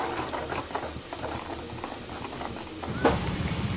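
Egg masala with onion, turmeric and ginger-garlic paste sizzling and frying in a pan, a steady close bubbling crackle with occasional pops, while someone talks quietly over it.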